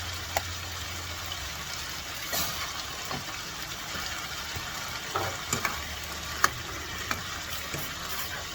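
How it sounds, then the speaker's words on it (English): Whole peeled tomatoes and tomato paste stirred into a meat sauce in a pot: a soft, continuous sizzle and bubbling with scattered scrapes and clinks of a spoon, moderately near and without talk. "Stir that in, and we're going to kind of chop the tomatoes without making a big damn mess."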